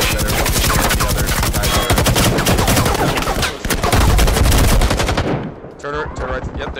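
Video game gunfire: rapid automatic bursts of shots, loud and close, fading to scattered distant shots at the end, with some talk faintly underneath.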